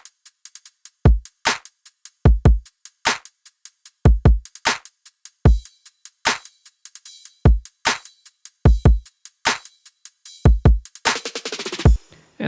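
Electronic drum beat for a space bass track, with punchy kick hits, crisp snares and hi-hats in a syncopated pattern, loud and dry, closing with a rapid fill.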